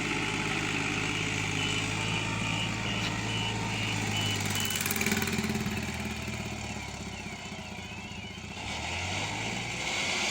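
A tractor hauling a trolley loaded with about ten thousand bricks drones steadily throughout with a loud, continuous engine note that shifts in pitch toward the end as it labours.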